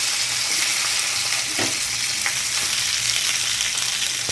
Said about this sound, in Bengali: এবার এখানে আমি ভেন্ডিগুলো দিয়ে দেবো।